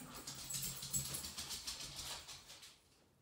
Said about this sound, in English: Sorry if you hear my crazy dogs in the background.